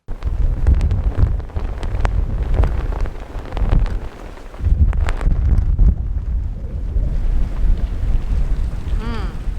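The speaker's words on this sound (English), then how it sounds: "It's pretty windy." Heavy gusting wind batters the microphone on a windy rooftop, producing loud, low rumbling blasts that surge and ease over several seconds, with faint voices in the background.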